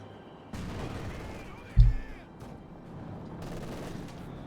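Artillery shells pound a Rangers squad in a Company of Heroes 2 battle between Wehrmacht and US forces: scattered gunfire and rumbling blasts, with one sharp, loud impact partway through.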